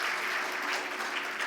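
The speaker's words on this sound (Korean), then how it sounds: "우리 한번 일어나시면 우리 박수로 한번 환영하겠습니다." A church congregation applauds in welcome, steady dense clapping from many hands filling a hall, continuous and fairly loud throughout the short stretch.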